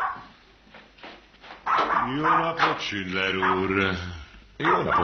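A dog barks and whimpers indoors in a 1970s crime drama scene, with a few sharp yips and a drawn-out whine, close and loud, alongside talking.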